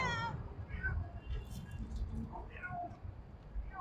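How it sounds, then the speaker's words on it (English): A cat meows several times in short, rising calls spaced a second or so apart, fairly close, with low background rumble and faint murmuring. "This cat making some noise here."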